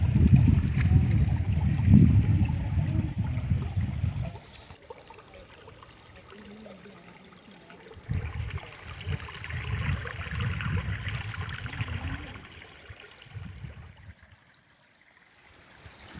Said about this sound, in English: we're basically in a creek bed